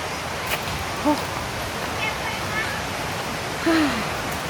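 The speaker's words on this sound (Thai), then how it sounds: "ข้างหลังก็เป็นน้ำตก" Continuous rushing roar of Nang Rong Waterfall in Nakhon Nayok fills the scene, with a few faint voices calling out in the distance.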